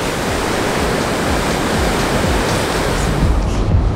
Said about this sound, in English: it's not the longest waves or whatever, but it's still very surfable waves